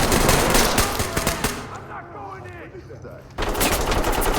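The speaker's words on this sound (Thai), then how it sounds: "ยิงจากไหนเนี่ย" Automatic gunfire rattles in the tactical shooter Ready or Not, loud dense bursts that drop away into a brief lull and then resume sharply.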